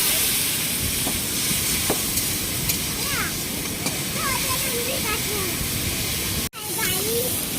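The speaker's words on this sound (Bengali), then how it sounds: "এবার জল দিয়ে দিচ্ছে, এটা মশলা কষানো হয়ে গেছে, হালকা জল দিচ্ছে।" Water poured onto cooked-down crab masala in a hot pan sets off a loud, steady steam hiss that fills the scene, with faint voices and a brief sharp break near the end.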